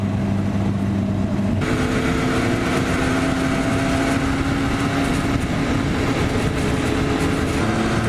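Motorcycles idle and rumble in slow traffic during a fall poker ride, a loud, steady engine drone that runs the whole time with a slight rise partway through.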